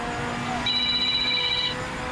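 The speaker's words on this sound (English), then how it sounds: "you have a phone ringing" A phone rings with a thin, high electronic tone for about a second, heard over a steady hum of background noise during a Project Motor Racing game session.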